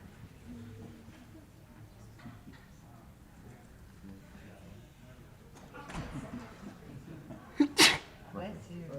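A single sneeze bursts out sharply near the end, loud and close, against the murmur of a crowded board meeting room where people talk in the background.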